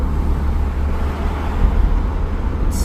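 Slow-moving road traffic in Dublin, Ireland, heard as a steady, dense low rumble of engines and tyres with no distinct passing vehicles and no voices.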